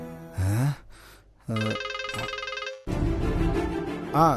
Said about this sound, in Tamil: தங்கச்சி வேற ஃபோன் பண்ணுதே